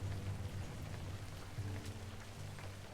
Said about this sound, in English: Why don't we get out of this rain, though?